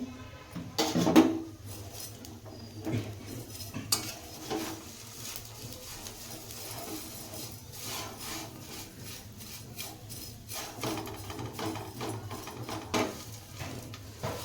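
Vermicelli roasting in a little oil in a pan, stirred and scraped with a steady rubbing, scratchy texture and occasional louder knocks of the utensil against the pan, close and fairly quiet, with no talking.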